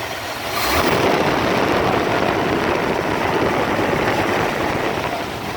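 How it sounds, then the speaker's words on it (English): A 1957 Ford Thunderbird 312 engine with automatic transmission running steadily nearby, a dense constant rumble and roar that swells slightly at the start and then holds even. "Engine sounds really good."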